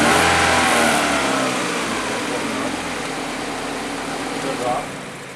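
A car engine starts and settles into a steady idle, then its revs are raised slightly, with a continuous broadband hum that stays loud throughout and tapers a little toward the end.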